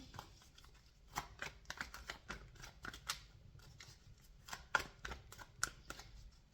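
Romance Angels Oracle cards are shuffled and drawn in a quick, irregular patter of soft riffling snaps and flicks, close and fairly quiet against a hushed room.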